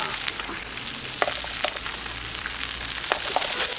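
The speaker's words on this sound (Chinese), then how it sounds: "倒油、姜、蒜、辣椒爆香" Ginger, garlic and chili hit hot oil in a wok, producing a loud, dense sizzle with crackling spatter and stirring scrapes, continuous and up close with no speech.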